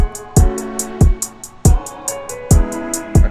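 Deep, punchy kick drum hits thump at irregular intervals in a produced beat, layered with a steady run of crisp hi-hat ticks and sustained synth chords, clear and upfront with no talking.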